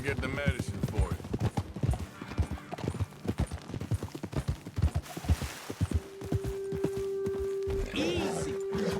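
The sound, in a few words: horses walking, hooves clip-clopping, in video game Red Dead Redemption 2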